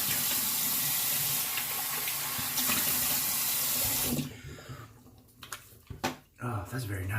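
Running tap water splashing in a sink while rinsing off after a shave, a steady rush for about four seconds that stops, followed by scattered drips, splashes and handling sounds.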